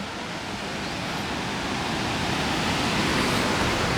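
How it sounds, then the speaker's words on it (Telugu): Steady, full rush of water spilling over small waterfalls at the overflowing Thurkapally ponds, a constant broad roar that swells slightly, with no voices. "వాటర్ ఫాల్స్ అనమాట ఇవన్నీ"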